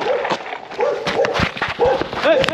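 A dog chases a skateboarder along a mountain-town road in rural Portugal, giving sharp close yips and barks over the rolling skateboard noise while someone speaks.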